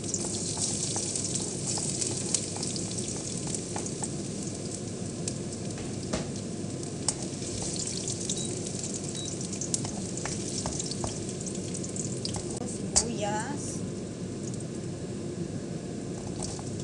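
Garlic sizzles and fries steadily in a pan while spaghetti sauce is being made, a continuous close crackle with occasional stirring clicks and no talking.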